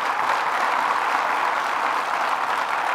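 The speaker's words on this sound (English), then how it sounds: "Let's give them another round of applause." An audience at a regional investment awards event for the Finger Lakes gives a round of applause for the Medina winners, a steady, even wash of many hands clapping, moderately distant and sustained with no voices.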